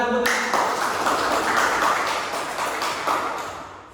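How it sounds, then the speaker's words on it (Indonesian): Classmates clap together in a classroom during an Islamic religious education lesson, a dense burst of applause that starts abruptly, holds steady for a few seconds, then slowly thins out. "Tepuk tangan."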